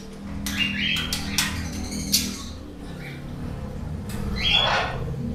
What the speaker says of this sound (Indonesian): ini dia nih parkit Australia yang kemarin kondisinya sakit